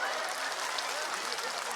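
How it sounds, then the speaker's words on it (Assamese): Applause from a crowd at an outdoor election rally, a dense, even patter of many hands clapping at a moderate distance, continuous throughout. "হাত চাপৰি বনাইছে।"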